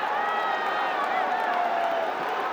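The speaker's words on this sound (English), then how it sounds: "Well, that's livened up the crowd here in Mirpur." A crowd at a Mirpur stadium cricket match, a BPL qualifier between Khulna Tigers and Chittagong Kings, raising a sustained, roaring cheer that stays loud and even across the moment, with commentary voices faintly underneath.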